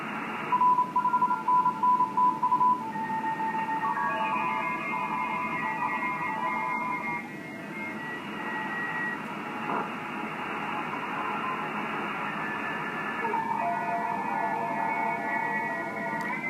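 An amateur radio receiver tuned across the 18 MHz band gives a steady hiss of static with faint, wavering whistles and tones drifting in and out, opening with a quick burst of short beeps, no clear voice.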